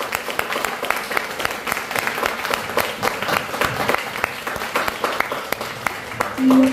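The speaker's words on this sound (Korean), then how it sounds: "큰 박수 한번 주시기 바랍니다" A congregation at a church testimony gathering claps together in steady, dense applause at moderate volume, with a brief voice surfacing at the very end.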